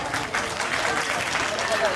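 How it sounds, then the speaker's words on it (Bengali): Loud applause from a group gathered for a team game event, a dense, steady wash of clapping lasting throughout with no pauses. "একটা জোরে হাততালি দরকার।"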